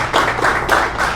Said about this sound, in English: Round of applause for Sonny putting this together.